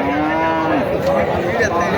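A water buffalo lows in a long, drawn-out moo close by at a livestock market, with a busy outdoor crowd murmuring faintly behind it.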